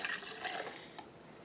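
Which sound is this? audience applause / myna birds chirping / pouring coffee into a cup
pouring coffee into a cup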